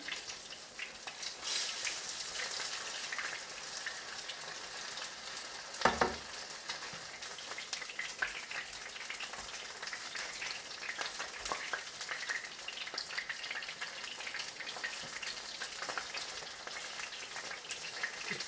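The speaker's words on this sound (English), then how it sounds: "So just going to fry those until they're lovely and golden brown like that." Battered dogfish pieces deep frying in oil, giving a steady dense crackling sizzle that runs unbroken throughout, with one brief louder knock partway through and no talking.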